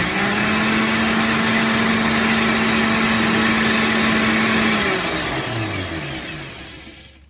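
A blender blending almonds and water into almond milk whirs at high speed with a loud, steady motor whine that holds for several seconds, then winds down and fades as it spins to a stop.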